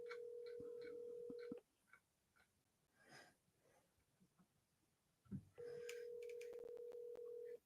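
Outgoing phone call ringing back through the earpiece, with two long steady ring tones, one at the start and one near the end, separated by a quiet gap that holds faint rustling.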